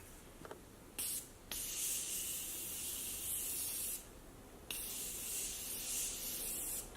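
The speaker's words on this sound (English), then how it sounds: "Now I'm gonna go in and set my face using the Morphe Continuous Setting Mist." Morphe Continuous Setting Mist spraying onto a face, a fine hissing mist in several bursts: two short puffs, then two long continuous sprays with a brief pause between, close and fairly soft.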